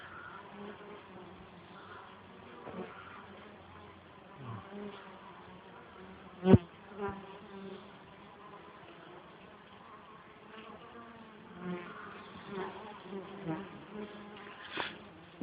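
A dense, steady buzzing of many bees surrounds the listener, droning continuously at a low level with a few closer passes standing out.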